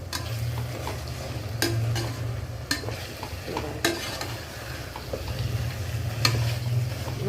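Vegetables cooked with ginger-garlic paste sizzle steadily in a pan at home, while a spoon stirs them with sharp scraping clacks against the metal every second or so.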